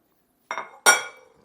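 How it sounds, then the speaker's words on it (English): A bowl being picked up in a kitchen, giving two quick bright clinks of glassy dishware, the second louder, each ringing briefly in otherwise quiet surroundings. "I'm going to grab this bowl here."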